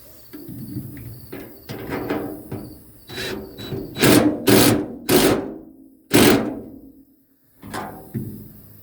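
A hand wrench tightening a nut on a bolt on a lawn trailer attachment bracket, with bursts of rapid metallic ratcheting clicks in several separate strokes, close and fairly loud, separated by short pauses.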